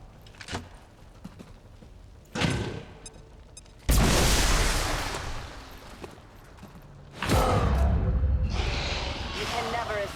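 An explosive detonates in the turn-based tactics game XCOM 2: War of the Chosen, a loud broadband blast midway that rumbles on for several seconds before a second heavy burst follows, with faint voices and game noise earlier.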